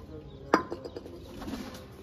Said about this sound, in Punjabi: ਕਬੂਤਰ ਆ ਗਏ ਬਾਈ